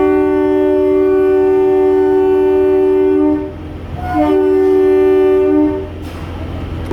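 A train horn sounds at a station, loud, near and sustained, with two long tonal blasts separated by a short gap.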